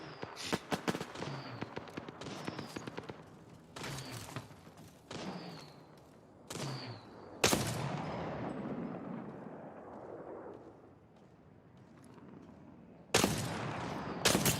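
Gunfire in the video game Apex Legends cracks out in sharp, loud single shots and short bursts, some followed by trailing echoes and a longer rumbling blast, separated by quiet gaps.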